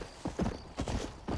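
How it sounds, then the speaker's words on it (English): Hooves clip-clop in a quick, steady rhythm, close and fairly loud, a horse trotting along in Red Dead Redemption with no talking. "I heard another horse."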